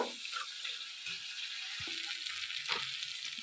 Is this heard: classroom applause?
no